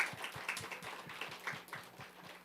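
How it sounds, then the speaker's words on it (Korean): Church congregation clapping in a steady rhythmic beat, a sharp even pulse of many hands repeating about every quarter second, moderately loud and heard alone without talk. "박수를 치는군"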